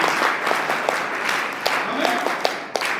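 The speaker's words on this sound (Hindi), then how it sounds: "एक बार जोर से तालियां बच्चे को बजाई जाए।" Audience at a scout felicitation ceremony claps for a child, a short burst of scattered applause with a few sharper individual claps standing out, while a voice speaks briefly over it.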